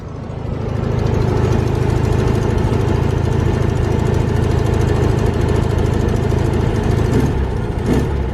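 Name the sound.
car exhaust idling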